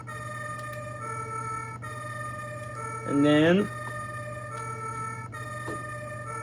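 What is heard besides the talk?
Carrera Digital slot car ambulance siren sound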